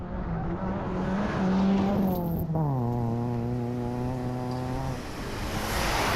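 A rally car engine roars from inside the cockpit during the 2023 Rally of Coimbatore, an Indian National Rally Championship round. The loud, steady whine holds, then drops in pitch at a gear change midway before pulling strongly again.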